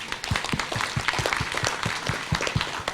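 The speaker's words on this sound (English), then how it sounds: "For that openness, please give her a clap." An audience at a forum on overcoming drug addiction gives a round of applause, many hands clapping densely and steadily at close-to-moderate range for about three seconds, without speech.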